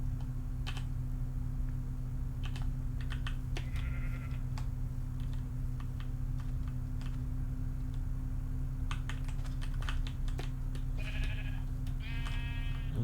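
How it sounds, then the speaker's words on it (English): A sheep in a Minecraft Feed The Beast modpack bleats a few short times, faint and far, while keyboard typing clicks run over a steady electrical hum. "Oh, that's a sheep."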